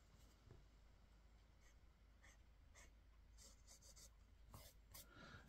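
Onoto Rosetta Stone Black Edition fountain pen with a wet nib writing on paper, heard as faint, close, scratchy strokes in short irregular bursts, growing busier toward the end.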